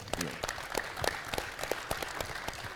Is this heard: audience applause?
yes